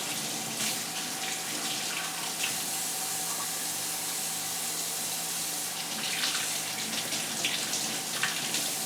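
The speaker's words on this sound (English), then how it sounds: "we're going to rinse away the seeds and pulp." Running water from a kitchen tap rinses seeds and pulp out of cut heirloom tomatoes: a steady, close hiss of flowing water over a sink, with occasional splashy bursts as the tomatoes pass under the stream.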